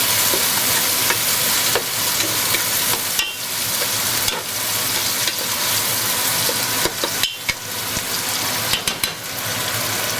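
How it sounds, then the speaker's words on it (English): Tomato added to frying onions in a pot for Surinamese djeri pesi moksi alesi, sizzling steadily and loudly up close, with a few scraping stirs and knocks of a spoon against the pan. "I am now going to add my tomato. Just like that. And give it a bit of a stir."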